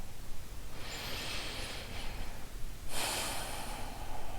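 Slow meditative breathing close to the microphone: a long, steady breath drawn in and out, then a second, stronger exhale, all at a quiet level with no talk.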